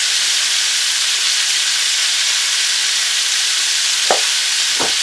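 Garlic, leeks, celery and carrots sautéing in a pan give a loud, steady, broad sizzle close up, with a couple of brief spoon clinks near the end and no talking.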